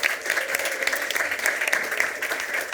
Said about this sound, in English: Can we give our panel a big round of applause?